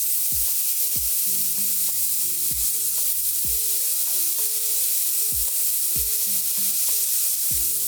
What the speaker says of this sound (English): Okay, I have sauteed the mushrooms.